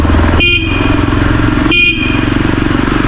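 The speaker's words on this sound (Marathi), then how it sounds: "परत हॉर्न मारतो, क्रिशला थांबवतो." A motorcycle horn honks twice in short, loud blasts over a steady near engine rumble while riding on the road, with the second honk about a second after the first.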